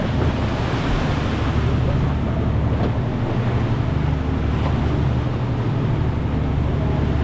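Monsoon wind and heavy waves at sea batter a small boat, a loud, continuous roar of surf and gusting wind buffeting the microphone with no break throughout.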